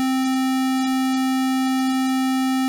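A steady, bright synthesizer square wave tone holds one pitch with rich buzzy overtones, sustained and loud with no voices.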